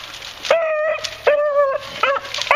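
A puppy barks and yips in several loud, close bursts, with whiny tonal yelps rising and falling between short pauses.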